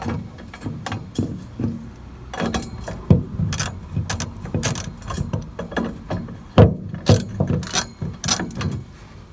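A ratchet wrench loosening half-inch bolts on a budget truck flag pole mount, heard as quick, uneven runs of sharp metallic clicks and clacks, close and fairly quiet, with no talking.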